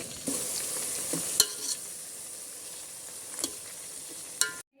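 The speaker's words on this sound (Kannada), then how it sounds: "ಹೀಗೆ ಹದಿನೈದು ನಿಮಿಷ ಕುದಿಸಿಕೊಳ್ಳಿ ಸ್ಲೋ ಫ್ಲೇಮ್ ಇಟ್ಕೊಂಡು ಕುದಿಸಿಕೊಳ್ಳಿ" Ayurvedic herbal coconut oil simmers in a pot over a low flame, giving a steady soft bubbling hiss with a few louder clinks of a stirring spoon, close and without voices.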